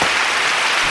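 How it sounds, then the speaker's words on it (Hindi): Dense, steady applause from a crowd fills the whole moment, loud and continuous with no voices breaking through. "जबरदस्त तालियों के लिए"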